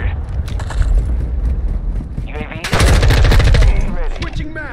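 Rapid automatic gunfire from Call of Duty: Modern Warfare 2, loud bursts of machine-gun fire with dense clattering shots, surging to a heavier volley midway, with game effects in the mix.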